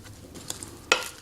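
Cauliflower being stirred with oil, garlic and parsley in a pan, giving a soft sizzle with a couple of sharp scraping clinks of the utensil, close by.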